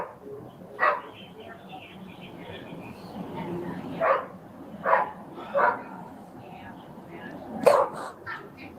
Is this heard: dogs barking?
yes